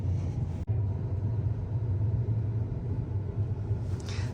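A combine harvester runs steadily while harvesting soybeans, a loud continuous low engine rumble with cab drone, a brief dip near the start, and no talk.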